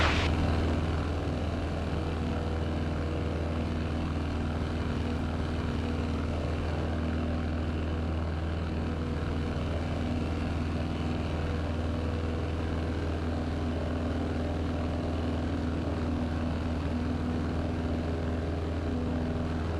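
A propeller airplane engine in flight over Yellowstone drones steadily and loudly throughout, a constant low hum with a buzzing harmonic texture and no voices.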